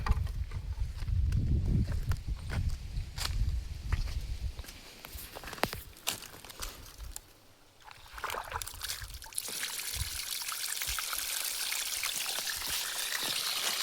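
Water gushes and splashes nearby from an opened valve, starting with a low churning rush, then thins into a bright hissing stream after scattered clicks and knocks.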